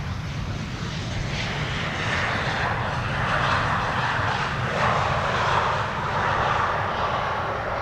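A fixed-wing airliner arriving from Southampton at Amsterdam Schiphol Airport, its engines giving a steady, loud broadband roar that swells slightly and holds throughout, with no talk over it.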